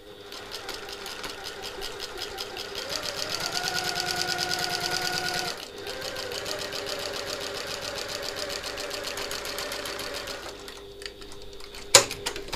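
A sewing machine closes the opening of a fabric satchel with a very scant seam, a close continuous rapid needle chatter broken by one brief pause and ending with a sharp click.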